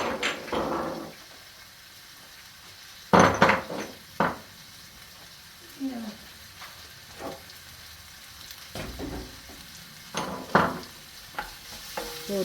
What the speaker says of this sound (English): Just fry the onion a little bit